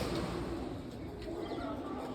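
Domestic pigeons coo close by in a soft, continuous low murmur, with faint background noise and no talk.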